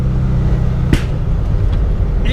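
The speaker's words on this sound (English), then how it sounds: "It just doesn't stop popping" A 1972 Abarth 695 with steady low engine and exhaust drone, one sharp loud pop near one second and a softer crackle toward the end, close up from inside the car.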